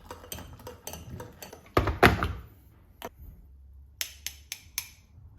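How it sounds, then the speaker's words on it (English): A teaspoon taps a cup with a dull, unringing knock, several quick light taps and a louder thunk, close and alone with no talk. "Doesn't ring like a china cup, does it?"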